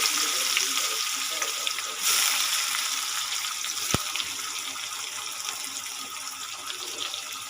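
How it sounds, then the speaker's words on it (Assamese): Chopped onions fry in a pan for an Assamese fish curry, giving a steady, close sizzling hiss throughout, with a single sharp clink about halfway through. "পিঁয়াজটো এতিয়া মই ভাজিম"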